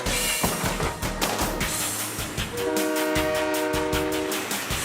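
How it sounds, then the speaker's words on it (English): A model train set runs steadily and close, its rumbling motor and clicking wheels overlaid by a sustained horn-like whistle tone, with no talking. "this is my train set"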